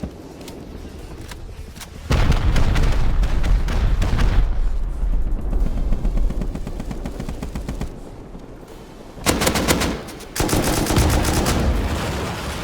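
Loud volley of gunfire and explosions in the Rust video game, sustained rapid automatic fire with heavy booms, a brief lull, then another sharp burst of shots continuing to the end.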